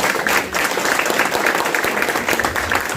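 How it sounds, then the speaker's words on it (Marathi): An audience at a student and teacher felicitation ceremony applauds loudly, dense continuous clapping lasting throughout, close and full with no speech over it. "जोरदार टाळ्या झाल्या पाहिजे"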